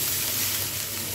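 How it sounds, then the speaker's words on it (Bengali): Squash flowers and cooked potato frying in a pan, a dense, loud, continuous sizzle and crackle heard up close as the mixture is stirred; no talking. "আমি আবার একটু নেড়ে দিচ্ছি"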